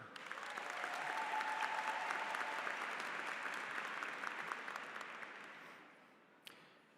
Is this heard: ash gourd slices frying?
no